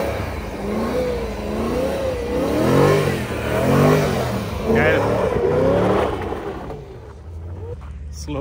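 A BMW M3 spins slow donuts on snow, its engine revving up and down in repeated rising and falling sweeps, close and loud, while people talk over it before it fades out near the end.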